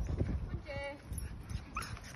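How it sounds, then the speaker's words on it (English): A small puppy whimpers in faint, brief high whines amid scuffling and clattering movement noise. "Oh, wee puppy baby noises."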